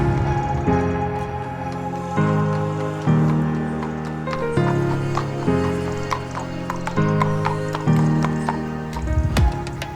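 An Irish sports pony is led in, its hooves clopping in an uneven rhythm over a steady tonal background hum that shifts pitch every second or so.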